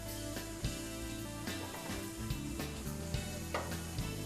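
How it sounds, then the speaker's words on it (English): Shrimp sauté in a pan with seasoning and peppers, giving a continuous close sizzle overlaid by a steady tonal hum and intermittent clicks and scrapes of stirring. "That's your sauteed shrimp."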